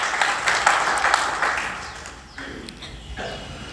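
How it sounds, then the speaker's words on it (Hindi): Audience applause at a spiritual discourse on daily yajna, a dense wash of clapping that swells and fades over a few seconds, fairly loud and steady with no talk over it. "तालियों से इनका स्वागत करो"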